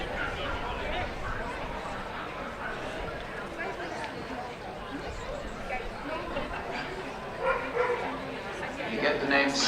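An English Springer Spaniel at a championship gundog group show, barking amid a busy, noisy crowd with chatter and commentary throughout, the dog sounds mixed into dense indoor hall ambience.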